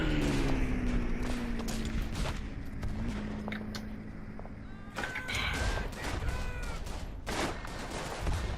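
Gunfire in a First World War video game battle at Verdun, a dense, distant crackle of rifle shots and scattered bursts under continuous battle noise, with a faint voice in the background.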